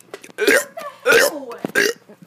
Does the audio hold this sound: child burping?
yes